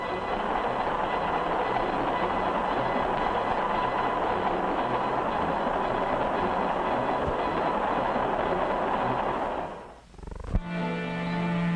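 A steady roar of a passenger train rolling along the tracks fills the scene, dropping briefly near the end before a sharp clank and the rumble resumes.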